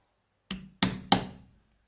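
Three sharp hammer blows drive a single-prong punch into leather while making a coin wallet, evenly spaced and close, each a crisp metallic knock with a short ring-out, then quiet.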